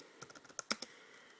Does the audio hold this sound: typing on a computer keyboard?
yes